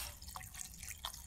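Water trickles and drips softly into a pot while soup is cooked outdoors at a campsite, with a few faint, brief splashes at low volume.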